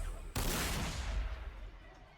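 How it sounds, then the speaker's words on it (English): A tank fires in the video game Warhammer 40,000: Sanctus Reach, giving one sudden loud blast that rolls away in a long, fading rumble. "I think the tank back there shot but hit the wall."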